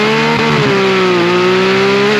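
A Porsche 991.1 GT3 flat-six screams as it revs toward its 9,000 RPM redline, a loud, sustained high-pitched engine wail that climbs and holds with slight dips, heard close and alone.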